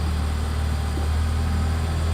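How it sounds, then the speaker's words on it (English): A sailboat's engine runs at anchor with a steady, low, close drone, the pitch holding nearly even as the revs are brought up while the anchor chain tightens. "I can start putting the revs up a little bit"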